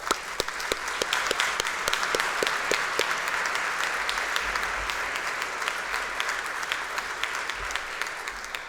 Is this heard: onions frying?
no